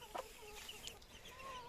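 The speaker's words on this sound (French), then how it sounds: "si je me suis pas plantée, normalement j'ai un coq et 4 poules" A rooster and four hens clucking in a backyard coop, faint and brief, with a few short soft clucks over low background noise.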